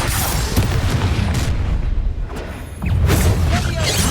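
Loud, dense magical combat in Hogwarts Legacy on PS5, with blasts from the Confringo fire spell booming and crackling over a constant rumble, briefly dipping before another surge of explosions.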